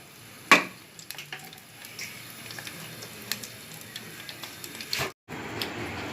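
Herbal hair oil with neem leaves cooks over a low flame, giving a faint, quiet sizzle with scattered small ticks and pops, plus a sharper clink near the start and another near the end.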